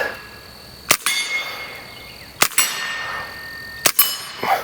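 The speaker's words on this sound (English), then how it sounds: "we're gonna shoot mini mags now and see how these do as well" Three sharp .22 pistol shots firing Mini Mag rounds at steel targets outdoors, each crack followed by a ringing metallic clang from the plate, spaced about a second and a half apart, with no talk.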